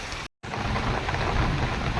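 Steady rain and wind in a village rainstorm, a dense, even wash of noise that cuts out briefly near the start and then continues without voices.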